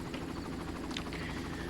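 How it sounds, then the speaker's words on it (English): A patrolling helicopter in the video game Far Cry, a continuous rotor thump and turbine whine at steady level throughout, alone with no talk. "Sorry, I forgot to tag the helicopter patrol."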